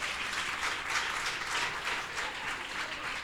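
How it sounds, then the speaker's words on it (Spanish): A church congregation claps during a worship service, producing a fairly faint but steady wash of applause that swells slightly in waves, with no talking over it. "Dale un aplauso al Señor."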